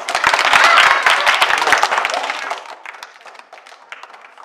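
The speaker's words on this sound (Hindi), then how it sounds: "ताली बजाओ बच्चों" Schoolchildren at a midday meal clap together in a loud, close burst of scattered claps that thins out and fades within a few seconds.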